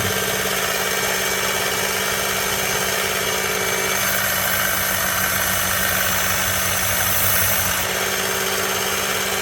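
A belt grinder polishing an Eafengrow EF121 knife, a loud continuous motor drone with steady belt hiss that shifts slightly in tone midway as the blade presses on, with no speech.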